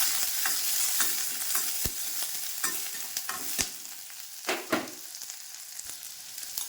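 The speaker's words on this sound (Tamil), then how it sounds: "நல்லா வதக்கி விடுவோம்." Onion, green chili, garlic and mustard seeds sautéing in a pan of oil, with a continuous sizzle broken by repeated sharp scrapes and taps of a spoon stirring, close and clear.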